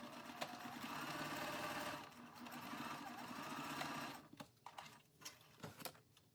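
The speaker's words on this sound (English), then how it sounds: "I'm just gonna follow the edge of my presser foot with the edge of the fabric and back stitch at the start and at the stop." A sewing machine stitches fabric pieces for a patchwork appliqué sweatshirt, running in a steady whir for about four seconds, then breaking into short stop-and-start bursts as it back stitches, fairly quiet and without talk.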